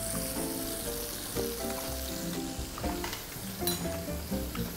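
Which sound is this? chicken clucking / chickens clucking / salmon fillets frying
salmon fillets frying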